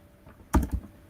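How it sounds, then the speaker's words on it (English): A computer keyboard gives a quick burst of two or three close, crisp keystrokes against a quiet background. "So I'm going to type"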